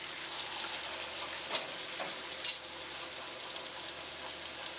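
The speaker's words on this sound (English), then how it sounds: "So we're going to fry this up in some hot, deep oil." Dough for doubles, Trinidad street food, frying in hot deep oil: a steady, close hiss of sizzling with a couple of brief crackles and pops.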